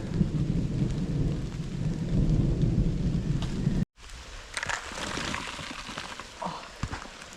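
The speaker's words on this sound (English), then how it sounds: "Thunder." Deep rumbling thunder rolling over steady rain outdoors on public land in Wisconsin, with a brief cut partway and then lighter rain patter and rustling afterward.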